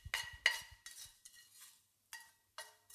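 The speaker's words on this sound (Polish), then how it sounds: "połączę sobie cebulę i czosnek z sosem beszamelowym" Onion and garlic being stirred into a béchamel sauce for a potato casserole with cold cuts: a few close, uneven scraping and clinking strokes of a utensil in a pan, with short pauses between them and no talking.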